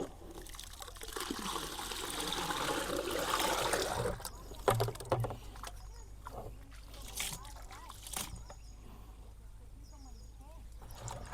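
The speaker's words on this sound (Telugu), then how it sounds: "ఒకటే బకెట్లో అవ్వలేదని 2 బకెట్లలో కలుపుకున్నాను నేను," Jeevamrutham liquid is stirred in buckets, giving a rushing, sloshing wash of water for about four seconds, followed by quieter trickles, splashes and sloshing, close by with no talk.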